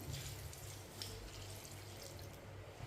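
Water poured from a glass into a cooking pot holding mustard greens, green chillies and salt for Punjabi sarson ka saag, a steady close splashing pour lasting about three seconds with no talk.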